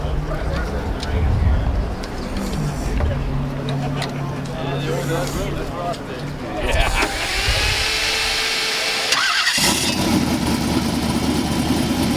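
The turbocharged LS engine of a 1,000 HP T-Bucket hot rod starts partway through and then settles into a loud, steady rumbling idle, heard close with voices talking over it.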